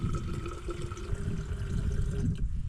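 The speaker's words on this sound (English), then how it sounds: "turn the tap on." Water runs steadily from the tap of a portable camping water container mounted in a truck, a continuous splashing gush heard close up and alone.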